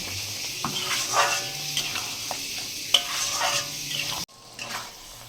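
Potatoes sauté in oil in a pan for a tilapia fish curry, sizzling steadily up close while a utensil stirs and scrapes through them. The sizzle briefly drops out near the end, then resumes.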